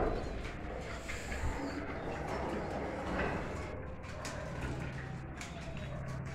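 Soft cooing of a pair of wild pigeons, low and muffled, under a steady rustling background with a few faint creaks.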